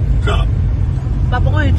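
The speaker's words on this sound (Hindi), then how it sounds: "पापा को हिचकी आ गई है" A father driving a vehicle hiccups twice, short and voiced, near the microphone, with a steady low road and engine rumble underneath throughout.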